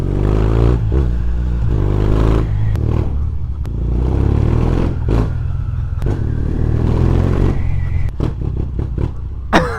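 A motorcycle engine rumbles close by with repeated revs and throttle blips, a steady low growl punctuated by sharp clattery bursts.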